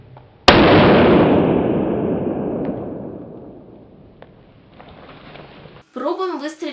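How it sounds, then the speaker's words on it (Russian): A single sharp shot from an OSA traumatic pistol fired into a gelatin block rings out loudly, its boom decaying over several seconds before a voice begins speaking at the end. "Пробуем выстрелить из «ОСЫ» по блоку желатина без куртки"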